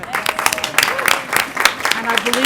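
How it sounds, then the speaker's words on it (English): Board meeting attendees clap for Mr. Ayers, a moderate burst of many hands pattering close by, mixed with a talking voice and some background murmur through the short stretch. "And Mr. Ayers, would you like to take so we can clap for you as well?"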